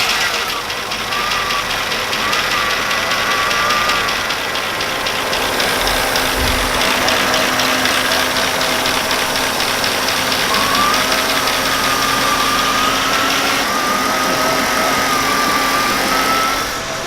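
A car engine fires for the first time and settles into a steady, loud idle with a constant mechanical hum and faint whining tones throughout.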